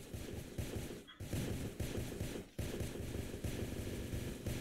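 Rapid, dense minigun fire in an online multiplayer shooter, sustained and loud, with two short breaks in the stream of shots.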